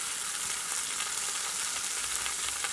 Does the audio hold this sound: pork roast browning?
yes